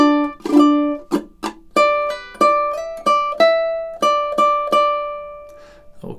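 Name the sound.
ukulele playing measures 27 and 28 of a song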